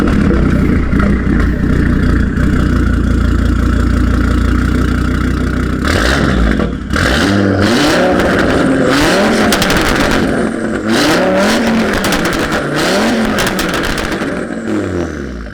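A modified 2018 Audi RS3 with an aftermarket downpipe and AWE SwitchPath exhaust idles with a deep, loud burble, then is revved hard again and again, each blip rising and falling in pitch, close by.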